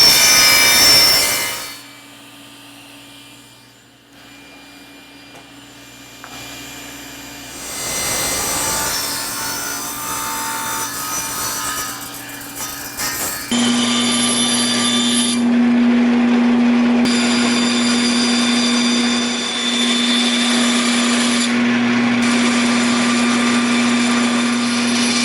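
A power tool trims down a 2x4 of wood that has paper templates glued onto it. It gives a steady, loud whining buzz that starts, pauses briefly and then runs on strongly for a long stretch, with no talking.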